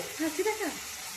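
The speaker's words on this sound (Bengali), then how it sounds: "তেলটা গরম করে একটু চিনি দিলাম, তারপর পেঁয়াজ দিয়ে দিয়েছি" Onion and spices frying in hot oil with a little sugar in a Bengali village kitchen, a soft steady sizzle with brief stirring scrapes, fairly quiet and close, no talk.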